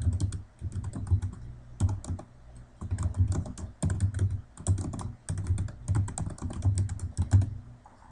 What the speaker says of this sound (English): use the text tool and type out your text